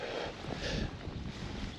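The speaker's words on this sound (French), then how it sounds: "il y a un petit peu de vent" Wind buffets the microphone in a steady broadband rush on open water from a float tube, continuous and fairly loud throughout with no voices.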